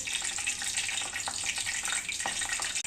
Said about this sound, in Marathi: सांबरसाठी जिरी, मोहरी आणि कढीपत्त्याची फोडणी देणार आहे